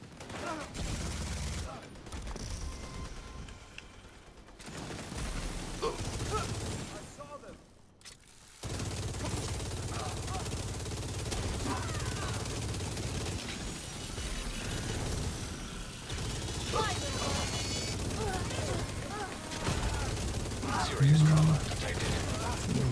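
Video game gunfire in a tactical shooter mission: sustained bursts and rattling volleys with booms, fairly loud and continuous for most of the stretch, with brief drops near the start and voices talking over it.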